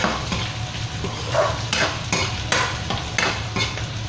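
Onions stirred and sautéing in a pan close up, a steady sizzle broken by regular scraping strokes of a utensil against the pan.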